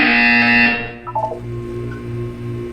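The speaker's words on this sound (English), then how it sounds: "You will hear a buzzer. When you hear the buzzer, look up at the ceiling." A buzzer in the video game Portal 2 during a ceiling-and-floor exercise, heard as a loud sustained harmonic tone for under a second that cuts off into a few short blips over a low background hum.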